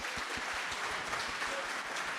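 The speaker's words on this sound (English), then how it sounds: "A round of applause for Sammy." Steady audience applause fills the room, a dense continuous clatter of many hands clapping at moderate level, with faint murmurs beneath.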